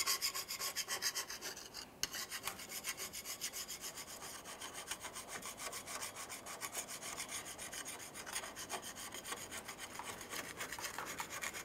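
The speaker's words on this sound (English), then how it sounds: "continue on with a flat blade razor or a scraper and clean down the differential where your pan is going to" A flat blade or scraper rasps steadily against the rear differential housing of a 2003-2011 Mercury Grand Marquis, cleaning the surface where the pan sits, with continuous close scraping strokes.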